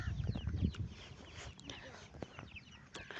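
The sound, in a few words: chicken clucking on a farm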